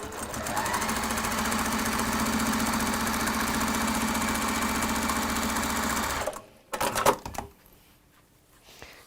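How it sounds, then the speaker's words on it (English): A sewing machine top-stitches fabric in one long, loud, steady mechanical whirr that runs for about six seconds and then stops, followed by a few quick clattering taps and handling noises. "And then I am going to top stitch down here."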